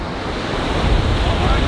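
Strong wind buffets the microphone by the sea at Cervia, Italy, with steady surf and ocean roar underneath, a loud continuous rush that builds slightly and carries on without speech.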